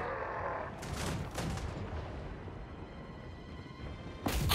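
Pistol gunfire from the Total War: Warhammer 3 battle, with a few bursts of sharp shots over rumbling battlefield ambience that swell in and out.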